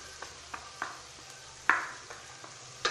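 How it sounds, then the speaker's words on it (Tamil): Ground masala frying in oil in a pan for Tamil egg kuska, with a soft steady sizzle broken by several light scraping stirs, quiet and close, no talk. "இந்த மசாலா வந்து எண்ணெயில் நல்லா வதக்கணும்."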